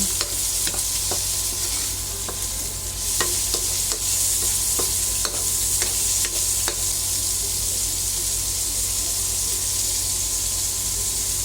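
Ground pork sautéing in a pan for chop suey, a steady loud sizzle with scattered clicks and scrapes of stirring throughout, close up with no talking.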